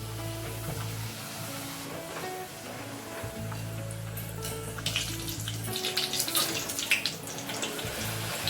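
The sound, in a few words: wheat bhatura dropped into hot frying oil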